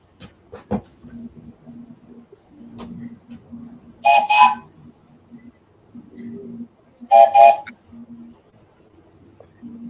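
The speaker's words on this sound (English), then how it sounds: "Does that whistle sound familiar?" Two short, bright whistle blasts several seconds apart, each clear and fairly loud, over a low, steady hum with soft voices murmuring in the background.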